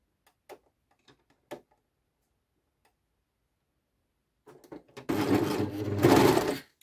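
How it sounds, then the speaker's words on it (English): Overlock sewing machine stitching the side seam of a blouse: a few soft clicks and taps, then a loud, close, rapid whirring run of stitching for about two seconds. "And then start sewing up your side"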